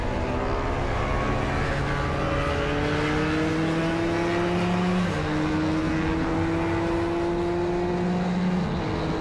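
Race car engines drone at sustained high revs around Homestead Miami Speedway during a CCS GT race, a loud continuous whine with shifting pitch as machines run the track.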